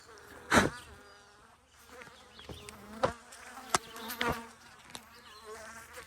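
Bees buzz around a hive on a bee farm, a thin, wavering hum near and far, with several louder close passes darting by.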